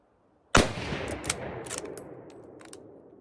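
A Lee-Enfield SMLE rifle fires a single loud, sharp shot with a long reverberant tail, followed by a few fainter metallic clicks and clatters from the bolt cycling, with no voices.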